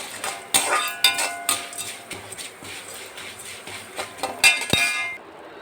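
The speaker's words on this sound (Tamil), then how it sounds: "எனக்கு பழகிடுச்சு, அதனால் நான் எல்லாத்தையும் ஒன்றா போட்டு வறுக்கிறேன்." Spices are dry-roasted together in a pan and stirred, with a spoon scraping and clinking against the metal in irregular knocks, close by and fairly loud, with no voices.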